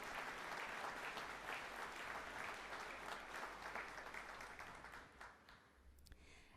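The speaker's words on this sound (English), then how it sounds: "Let's give these students a well-deserved round of applause" Audience applause at a community college spring commencement, a dense, steady roar of many hands clapping in a large hall that holds for about five seconds and then thins out with a few scattered claps at the end.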